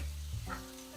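Chicken pieces sizzling in a hot cast iron pan for a stir-fry, a steady close frying hiss with a slight stirring scrape, no talking.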